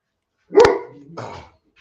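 A dog at an outdoor dog show barks twice up close, a sharp loud bark followed by a softer second yap, then a faint brief squeak, with no talking.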